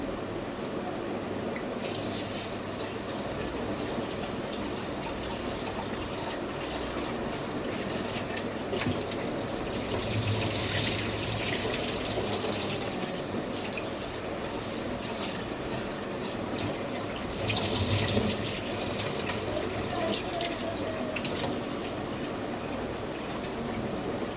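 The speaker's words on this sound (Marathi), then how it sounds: "इकडे तांदूळ धुवून घेते बघा, भात करते." Tap water runs steadily while rice is washed, a continuous splashing hiss with brief surges of fuller gushing, with no voices.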